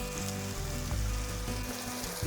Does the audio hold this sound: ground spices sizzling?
yes